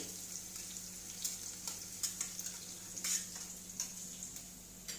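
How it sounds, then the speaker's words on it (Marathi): Cumin and mustard seeds splutter in hot oil for a tempering, giving a faint, steady sizzle with small irregular pops and crackles. "याची फोडणी दिलेली आहे बघा मी"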